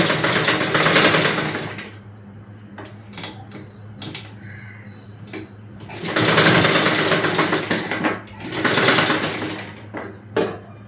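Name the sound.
sewing machine stitching a petticoat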